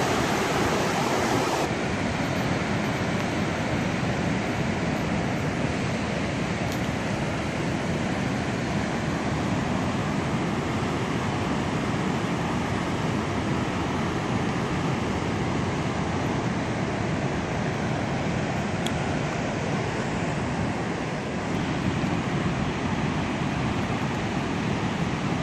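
A loud, constant roar of rushing water at Niagara Falls fills the whole stretch, unbroken and dense, like standing close to a waterfall.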